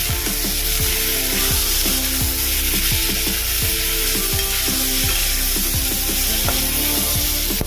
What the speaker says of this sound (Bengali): ছোট করে কেটে রাখা মাংস টুকরোগুলো এটা ভালো করে কষিয়ে নেব